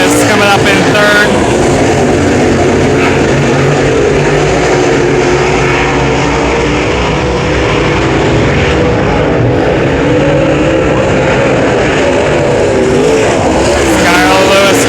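Race cars roar around Brownstown Speedway during a heat race, a loud, continuous engine drone with rising and falling pitch as cars pass, with an announcer talking over the din throughout.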